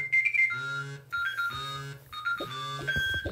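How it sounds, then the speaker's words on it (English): A phone alarm plays a melodic electronic tone pattern that repeats three times in a steady cycle, with each phrase made of bright stepped beeps over a low sustained note, at a fairly quiet level. "That was my alarm going off."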